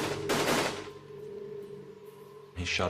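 Gunfire from an ambush on a military patrol: a loud, dense burst of rapid automatic shots at the start, a brief quieter lull, then another sharp volley near the end.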